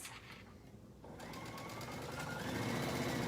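A sewing machine zigzag-stitches along the raw edge of shirt fabric. It starts as a soft hum, pauses briefly, then builds into a steady, quickening whir, close and alone.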